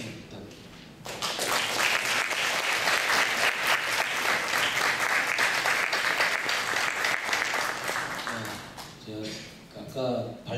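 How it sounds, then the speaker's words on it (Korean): Audience at a 2014 architecture and urban planning forum applauds for two seated representatives, a dense, steady clapping that swells quickly and fades near the end, with a few voices emerging as it dies down. "대표자 두 분이 앞에 앉으셨지만 박수 한 번 부탁드립니다."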